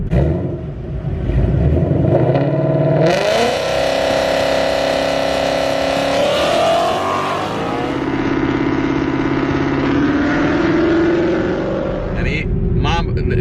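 A 2018 Ford Mustang GT engine roars and revs loudly, pitch climbing and holding as it builds for a 4,000 rpm stall launch on the trans brake, rumbling close by throughout.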